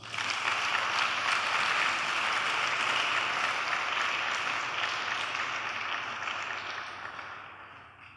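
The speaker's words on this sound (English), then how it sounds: "Clap for Jesus." Church congregation applauding together, a dense, steady wash of clapping that holds for several seconds, then gradually thins and fades toward the end.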